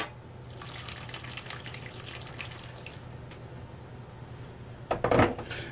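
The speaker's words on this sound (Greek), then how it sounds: "θα προσθέσουμε λίγο νερό ακόμα." Water running from a tap into a cooking pot as more is added to a Greek potato and meat dish, a steady splashing hiss followed by a louder clatter near the end, with no talking.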